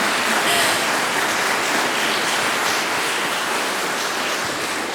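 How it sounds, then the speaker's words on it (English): Loud, dense applause from a concert audience fills the whole stretch, a steady wash of many hands clapping with no pauses. "Yes, applaud her."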